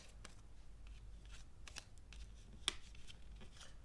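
Tarot cards flipped during a reading, soft papery flicks and slides close up, with one brief sharper snap among faint shuffling in a quiet room.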